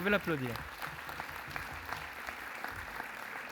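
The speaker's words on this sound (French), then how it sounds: "Oui, vous pouvez l'applaudir" A brief voice opens, then scattered applause from a crowd at a town's New Year address continues as light, uneven clapping with a few voices mixed in.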